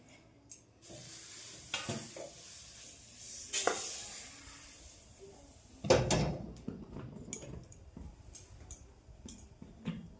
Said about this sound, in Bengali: খালি কড়াই সুজিটাকে ভাজতে হবে